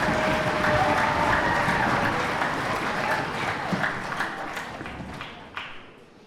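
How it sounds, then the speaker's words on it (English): An audience claps in sustained applause at a middle school spring concert, dense and steady throughout, thinning slightly near the end with a few louder individual claps. "let's give ourselves a round of applause"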